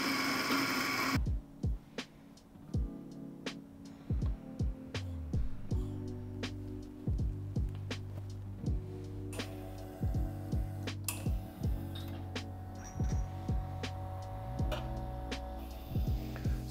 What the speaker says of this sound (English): let's just make an espresso because that's what the machine is built for.